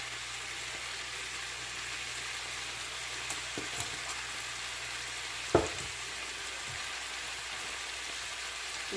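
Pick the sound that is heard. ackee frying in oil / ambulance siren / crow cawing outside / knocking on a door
ackee frying in oil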